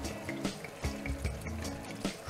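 Noilly Prat vermouth poured into a langoustine bisque, a soft, continuous splashing pour with small bubbling bursts, close but fairly quiet and with no talking.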